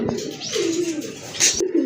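Native Bangladeshi pigeons cooing close by, a soft gliding coo followed by a brief sharp sound and another short coo.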